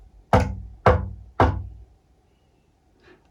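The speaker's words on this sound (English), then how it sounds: "He got to house number 2 and he knocked on the door." Three loud, evenly spaced knocks strike a door close by, followed by a pause and then one faint tap.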